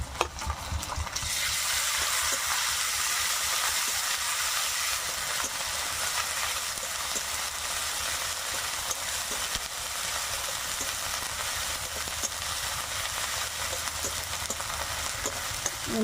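Ginger-garlic paste hits hot oil with a burst of sizzling that settles into a steady, loud fry, punctuated by light scraping and tapping as it is stirred.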